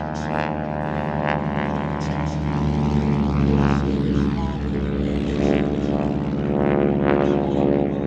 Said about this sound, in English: high above us, doing aerobatics, it's in unmistakable shape, the North American T6